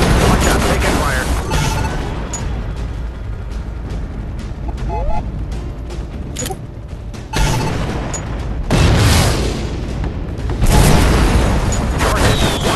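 Rumbling booms and sustained heavy firing from a gunship in a video game, loud and dense throughout, with shifts in intensity and game voices speaking over it.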